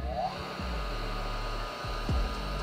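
An electric piston ring filer switched on while file-fitting engine piston rings, giving a steady motor whine that hums continuously under the scene, with a few brief scraping or rubbing touches; no talk.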